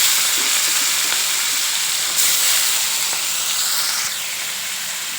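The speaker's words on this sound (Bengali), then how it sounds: "দিয়ে মাছগুলো ভাজা ভাজা করে নেব।" Prawns seasoned with salt and turmeric fry in hot oil, giving a loud, continuous bright sizzle and hiss that swells briefly, then settles slightly quieter, with no voices.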